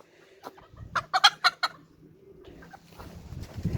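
Roosters let out of their coop cluck in a quick burst of several loud calls near the middle, then fainter rustling and clucking continue toward the end.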